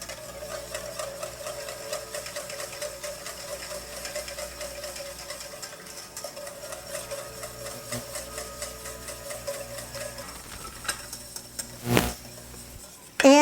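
A utensil stirs Kahlua coffee pie filling in a double boiler on a stove, a steady soft scraping and rhythmic clinking against the pot, ending with a sharp metallic knock and a few louder clatters.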